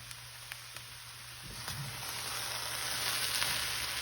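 Sliced okra blackening in a hot frying pan, a steady soft sizzle and crackle that swells as the pieces are turned with a spatula, with a few light scraping taps early on and no talk.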